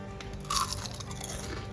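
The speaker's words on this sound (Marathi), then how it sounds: "बघा किती कुरकुरीत झाला आहे आवाज आला" A crisp fried curry leaf snack is bitten, giving one sharp close crunch followed by softer chewing crackle, faint against a steady background hiss.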